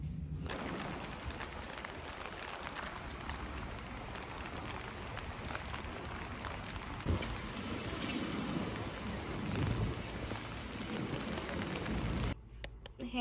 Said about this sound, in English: it's raining in New York City